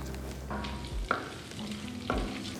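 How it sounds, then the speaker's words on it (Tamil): Cumin, black pepper and fennel seeds dry roasting in a pan as masala for prawn curry, with a soft stirring scrape and faint crackle, two or three brief stir strokes standing out, no voices. "இப்போ முதல்ல எறா குழம்புக்கு நம்ம மசாலா வறுத்துக்கலாம்."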